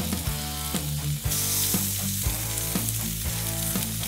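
Maple syrup glazed pork chops searing on a hot barbecue grill at about 260 degrees Celsius, a loud continuous close sizzle with no talk.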